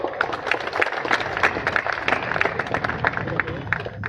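Crowd clapping for a speaker at a political rally in Bahu constituency, steady dense applause with shouting and chatter mixed in.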